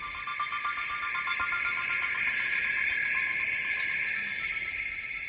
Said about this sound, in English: the sound of the rainforest awakening